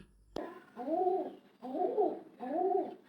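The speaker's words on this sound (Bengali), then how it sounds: "এটা হচ্ছে আমার বড় মামাদের পোষা কবুতর আর দেখেন আমার মামির সঙ্গে কিভাবে কবুতরে কথা বলতেছে" A pet pigeon coos in three soft, rolling bursts close by, each about half a second long, after a brief knock at the start.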